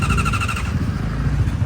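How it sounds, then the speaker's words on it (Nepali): A superbike motorcycle is ridden close by, its engine giving a loud steady growl with a high whining tone that fades after the first half while the low rumble carries on. "अब हेर केटा कसरी बाइक चलाउँछ"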